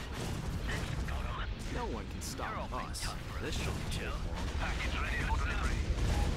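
Starships firing broadside weapons during a space battle in the Star Wars strategy game Republic at War, a dense, continuous barrage of blasts and laser fire with overlapping voices talking throughout.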